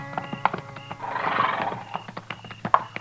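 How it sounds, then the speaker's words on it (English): Horses at a hunters' camp in an old-time radio western neigh with a loud whinny in the middle, while hooves clip-clop in a steady rhythm throughout. "This man's got horses."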